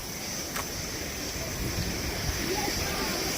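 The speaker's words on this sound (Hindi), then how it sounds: "यह वो झरने बह रहे, देखिए पास से दिखाते हैं आपको" A waterfall on a rocky mountain trail at Chauras in Himachal rushes in a steady, full roar close by, while a voice murmurs faintly underneath.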